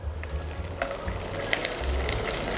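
Sheep tail fat sizzles in hot oil in a pan for Alexandrian-style liver, a close, steady frying hiss with a few small pops and light clinks, no voices.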